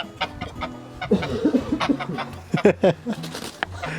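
Free-range chickens that roost in trees cluck in short, uneven bursts close by, with soft background chatter and a few rustling sounds.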